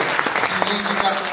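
A crowd applauds for a short stretch, with dense close clapping filling the whole moment and a voice speaking over it.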